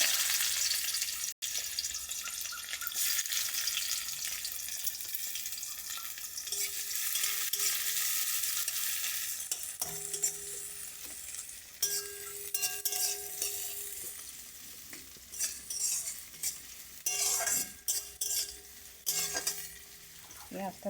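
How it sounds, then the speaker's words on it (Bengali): Onions sizzle and fry in hot oil, a loud continuous hiss with scattered clinks and stirring scrapes of a utensil against the pan. "তেলটা গরম হয়ে গেছে, এর মধ্যে পেঁয়াজ দিয়ে দেবো।"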